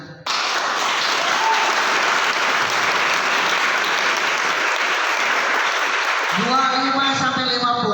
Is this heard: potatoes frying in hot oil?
no